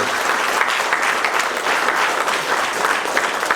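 A crowd claps steadily and loudly for a few seconds at a community launch event in Belmullet, Ireland, a dense sustained round of applause with no voices standing out.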